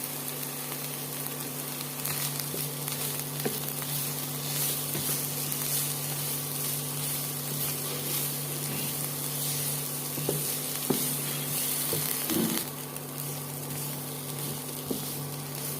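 Drumstick curry with turmeric sizzling in a pan as it is stirred, a continuous low hiss of frying with occasional light scrapes and taps throughout.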